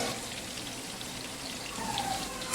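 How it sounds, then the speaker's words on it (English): Marinated fish frying in coconut oil with curry leaves, a continuous fine sizzle and crackle that stays fairly quiet and even throughout. "I had also marinated fish and I'm frying that in coconut oil along with curry leaves."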